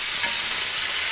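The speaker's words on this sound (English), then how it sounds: "I didn't hear a word you said for all the sizzling." Chicken sausage sizzles and fries in a single pot alongside rice ingredients, a steady, close, loud hiss with faint stirring, no voices.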